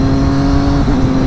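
Steady close-range idle of a Triumph Daytona 675 triple sportbike, a smooth continuous engine drone with a slight wobble in pitch near the end.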